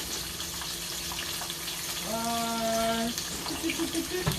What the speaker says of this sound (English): I have a big old chicken breast frying